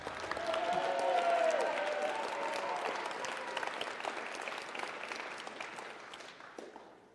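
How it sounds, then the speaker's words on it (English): Audience applause at a fall awards ceremony, a dense burst of clapping from a sizable crowd that swells early and then slowly thins toward the end, with faint voices mixed in. "give him a round of applause"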